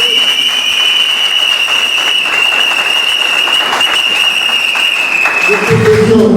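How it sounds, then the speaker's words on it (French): Guests at a civil wedding in Lambaréné applauding, a loud, continuous spatter of clapping hands with a steady high tone over it, ending in a brief burst of voices. "Applaudissez un peu."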